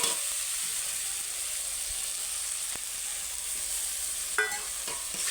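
Ginger, garlic and spice paste frying in hot oil gives a soft, steady sizzle, with faint scrapes and a couple of brief clinks of stirring near the end, and no talk.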